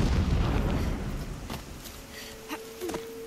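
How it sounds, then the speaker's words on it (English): Distant explosions in the video game Horizon Zero Dawn Remastered: a low rumbling roar that fades, followed by faint muffled booms and thuds further off, with a thin steady tone underneath. "explosions looks like... in the distance"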